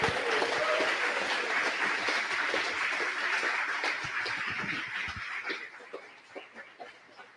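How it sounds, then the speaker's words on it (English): A crowd applauds the Queens team at the Launch Canada x Stardust Festival closing ceremony, with sustained clapping that fades over the last couple of seconds into a few scattered claps. "let's give a big round of applause for Queens"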